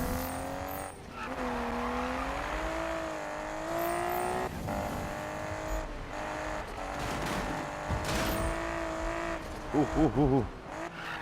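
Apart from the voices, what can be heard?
Nissan Skyline R32 engine and tire skid, Need for Speed 2015 video game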